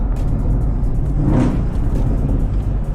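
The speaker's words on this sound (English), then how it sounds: "I'll do one downshift here, first gear downshift." McLaren sports car engine revving as the driver downshifts into first gear, a loud continuous roar with a brief rising rev burst in the middle, heard from inside the cabin.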